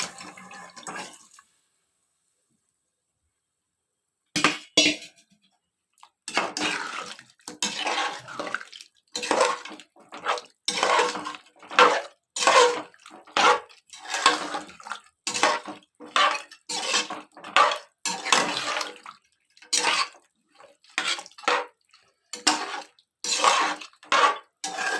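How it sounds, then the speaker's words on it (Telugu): Water poured into a pot of mutton curry: a long run of splashy, gurgling pours and scooping sloshes in repeated bursts, close and fairly loud, following a brief quiet stretch, with no talk. "కొంచెం వాటర్ పోసుకుంటాను, చూడండి"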